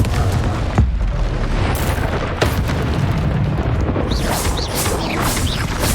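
Confringo spell blasts in Hogwarts Legacy on PC land as loud, deep booms, two sharp impacts followed by rumbling explosions and whooshing magical effects in a busy combat scene.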